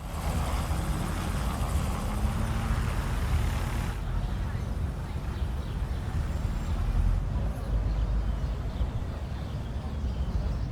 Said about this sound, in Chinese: 这个直升机会飞到建筑后面消失。